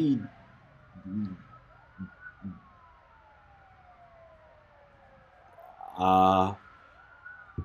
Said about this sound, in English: It's this police and sirens and yelling.